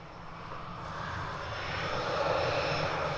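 A departing airliner bound for Dublin from Edinburgh Airport gives a steady, building engine roar with a thin high whine, fairly distant and unbroken by talk.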